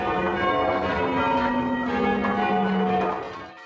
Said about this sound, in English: Well, I love the sound of bells, so can we have one more ring?